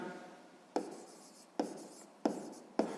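Pen writing on paper while working a sixth-grade math problem, four scratchy strokes, each opening with a crisp tap and trailing off, heard close up with no talk.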